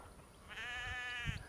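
A single sheep bleats once in a wavering nasal cry from across an open pasture, moderately distant and faint over quiet outdoor background noise.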